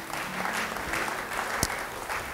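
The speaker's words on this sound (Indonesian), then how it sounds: "Yang percaya beri tepuk tangan bagi Dia." Church congregation applauding during a sermon, a continuous, somewhat distant wash of clapping with a few louder individual claps and a sharp knock partway through.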